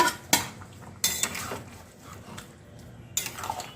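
Banana flower curry with fried dumplings being mixed in a pan with a spoon, giving three sharp metallic clanks of spoon on pan between quieter scraping stirs, close and clear, with no voice.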